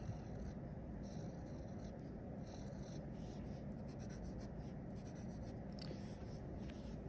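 Pencil sketching a decorative pattern of lines on paper, a close, quiet continuous scratching and rubbing with small strokes throughout, no talking.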